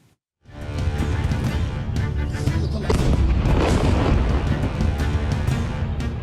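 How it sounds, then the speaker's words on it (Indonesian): A loud explosion from an Israeli air strike on a residential area in Lebanon bursts suddenly, then rolls on as a long, heavy roaring rumble that fills the space for several seconds. "Ledakan besar terjadi usai serangan udara dijatuhkan di permukiman warga."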